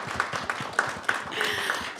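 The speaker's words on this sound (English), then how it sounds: "Yes, you can clap for them." Audience applause for the general managers of the Minor Football League at a summit meeting, a steady patter of clapping hands with a few sharper claps, over a room murmur.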